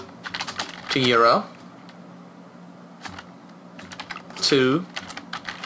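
Fingers type on a computer keyboard in short scattered clusters of light clicks, close by, while someone speaks over part of it.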